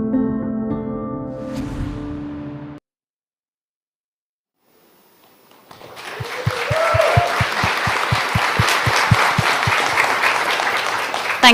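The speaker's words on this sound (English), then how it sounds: "just a huge round of applause for the panelists" Audience applause for the panelists at the close of a digital healthcare conference session, a broad wash of clapping rising after a short silence and holding steady, with a rhythmic low thumping running beneath it.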